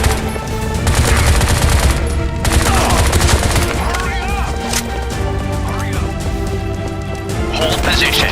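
Heavy gunfire from the Bright Memory video game, with dense, continuous bursts and rattling automatic fire throughout, loud and close, mixed with game effects and voices.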